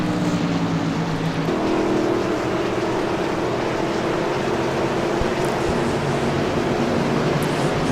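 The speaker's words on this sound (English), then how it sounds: "maybe it's just the noise of the trucks" Racing trucks roar as a steady, loud, continuous engine drone at a night race meeting, with no speech over it.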